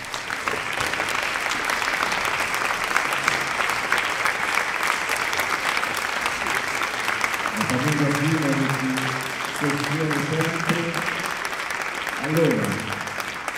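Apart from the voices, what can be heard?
concert audience applause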